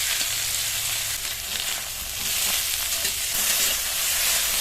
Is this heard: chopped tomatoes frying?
yes